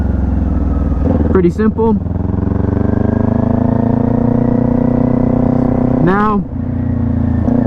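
A motorcycle engine drones loudly and steadily as the rider downshifts, squeezing the clutch and releasing it, with the engine tone dipping and rising at each change while someone talks over it.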